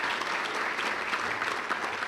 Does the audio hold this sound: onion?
no